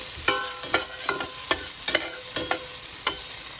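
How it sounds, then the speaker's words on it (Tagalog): Ginger fries in hot oil until brown, a steady sizzle broken by regular scraping stir strokes about twice a second, close by with no talk. "Hintayin lang natin mag-brown yung ating luya."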